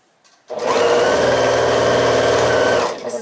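A sewing machine hums in one loud, steady run of close stitching for over two seconds while sewing a side strip onto a mini quilt, starting and stopping abruptly.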